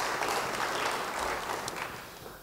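Congregation in a church clapping together, a dense, steady patter of applause that fades slightly toward the end, moderately distant.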